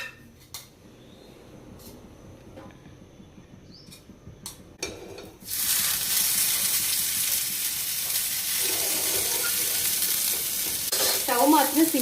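A bread sandwich toasting in butter in a pan on a low flame: a few quiet clinks and handling sounds, then a sudden loud, steady sizzle bursts in and carries on, crackling up now and then.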